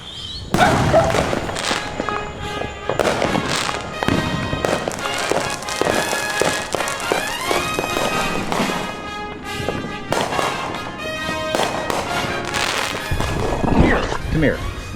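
Fourth of July fireworks rattle off in rapid, overlapping crackles and bangs for a sustained stretch, loud and fairly close, with musical tones and voices mixed underneath.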